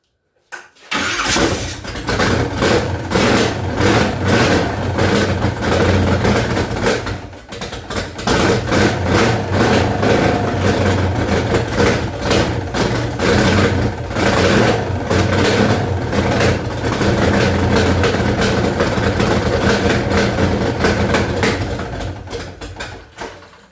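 A 1994 Chevy OBS truck engine cranks, fires and runs loud and close, holding a rough, steady idle for about twenty seconds before cutting off, with no talk over it.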